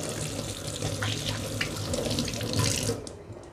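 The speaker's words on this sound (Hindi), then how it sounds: "अभी थोड़ा सा हाथ धो लेती हूँ मैं।" Tap water runs steadily into a kitchen sink as hands are washed during home cooking, a continuous close splashing rush that swells slightly near the end before cutting off abruptly.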